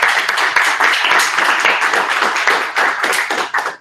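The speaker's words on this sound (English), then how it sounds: "give Alex a round of applause" A meetup crowd claps in dense, sustained applause, loud and continuous, tapering slightly toward the end.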